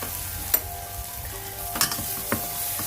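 Chicken curry fries in a pan with curry and coriander powder, a steady close sizzle broken by a few sharp clinks of a utensil against the pan.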